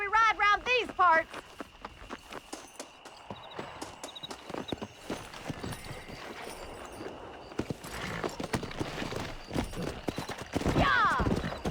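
Horse hooves galloping in the Red Dead Redemption video game, a rapid clip-clop rhythm running nearly throughout, with a whinny at the start and people talking over it.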